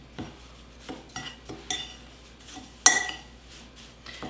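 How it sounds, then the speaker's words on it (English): Spices for a Mexican dip mix being stirred in a bowl: a spoon taps and scrapes against the bowl in a series of irregular clinks, with one louder clink near the end, all close and without talk. "what we're going to do is just mix these up really well"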